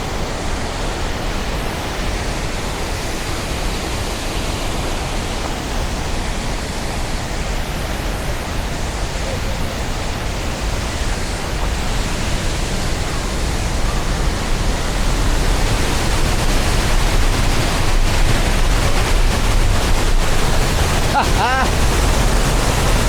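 A major dam release roars as a constant broadband rush of water, loud and close, growing slightly stronger as the listener walks beneath the dam, with faint voices under it.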